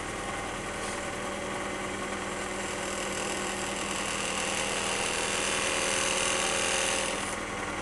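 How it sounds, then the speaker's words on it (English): An Edison phonograph shaver machine runs steadily, shaving a moldy brown wax cylinder with a continuous mechanical hum and fine rhythmic vibration, close and unbroken throughout with no talking. "if you do any serious recording on an Edison machine, you have to have a shaver."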